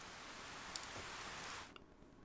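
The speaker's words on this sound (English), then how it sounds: "nothing will make the sound of the rain stop." Steady rain falling in the game 428: Shibuya Scramble, a dense even hiss that fades down abruptly near the end, with a few faint drips.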